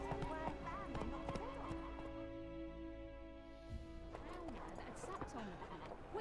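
A horse gallops in The Witcher 3 video game, its hooves clip-clopping steadily under a layered game soundtrack, with a brief whinny and a voice speaking over it.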